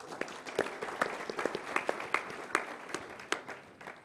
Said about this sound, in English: So round of applause for Jim.